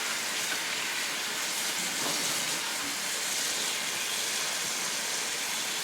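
Running water pours steadily from a tap to soak a potted mini Phalaenopsis orchid, a constant hissing rush that stays even and close for the whole stretch, with no talking.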